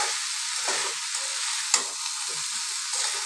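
Egg, potato and soybean chunks being sautéed with salt, turmeric and chili powder in a pan, giving a steady close sizzle with soft scraping stirs and one sharp clink partway through.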